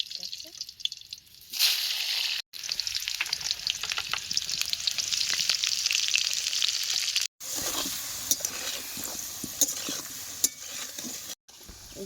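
Potatoes fry in a pan over a coal fire while chicken is being cooked outdoors on a winter afternoon, a dense crackling sizzle with spattering pops that cuts out briefly twice, and a voice heard near the start.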